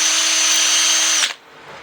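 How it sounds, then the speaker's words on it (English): A power drill whines loudly at a steady high speed while re-drilling holes for closet shelving, then cuts off abruptly, leaving quiet room tone. "I'm going to re-drill these holes"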